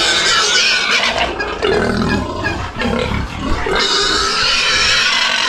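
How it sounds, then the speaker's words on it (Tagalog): Pigs on a small farm squeal and grunt loudly and close by during feeding, with overlapping shrill cries running almost without a break. "Meron kaming baboy na 1,"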